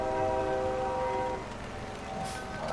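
A train passes through a farming simulator video game world, a steady rumbling roll with a sustained horn-like tone that fades partway through, close and continuous without voices.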